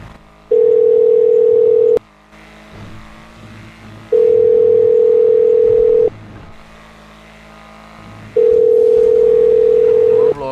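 A phone call ringing out unanswered: three long steady ring tones, each about one and a half seconds, separated by quieter gaps, loud and close with faint background noise between rings.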